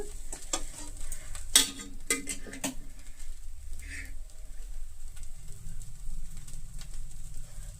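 Vegetable fried rice is stirred in a hot pan, with a run of spatula scrapes and clinks over a steady background sizzle, heard close with no talk.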